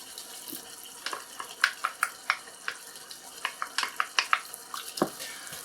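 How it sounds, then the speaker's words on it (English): Spoon stirring salsa into refried bean lasagna filling in a pan, soft scraping and wet clicking strokes in an irregular rhythm, fairly close and quiet. "Yeah, mix that salsa in."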